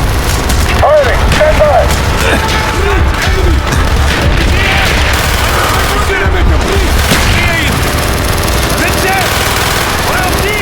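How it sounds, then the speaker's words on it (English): Battlefield din from Call of Duty: Black Ops, with loud, heavy mortar explosions and gunfire mixing with shouting voices and a dense roar of combat that stays loud throughout. "Use your smoke grenade to mark targets for our mortar."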